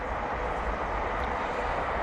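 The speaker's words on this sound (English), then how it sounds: "And right on cue, a train." A train passes at a distance, a steady broad rumble and rush that stays constant throughout with no other clear sounds.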